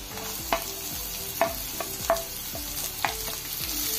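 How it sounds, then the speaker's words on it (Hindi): Onions fry in a pan with a constant sizzle, while a utensil scrapes and knocks against the pan about four times. "अब हम प्याज डाल देंगे।"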